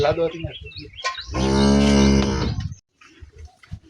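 A cow on a farm lets out one long, loud moo up close, with shorter calls from other cows and rustling around it.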